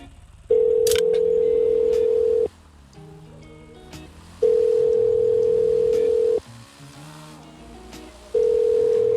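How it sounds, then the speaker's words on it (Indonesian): A loud telephone ringback tone plays while a call is being placed, steady two-second bursts of one pitch separated by pauses of about the same length, repeating three times with faint background noise between. "Coba geng, gue mau nelpon."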